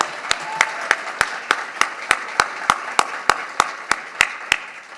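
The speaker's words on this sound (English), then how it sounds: "let's give Melanie a generous round of applause" Audience applause at an award ceremony, a steady wash of many hands clapping with sharp, regularly spaced loud claps cutting through, fading slightly toward the end.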